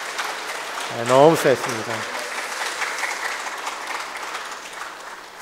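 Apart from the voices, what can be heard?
applause for the church choir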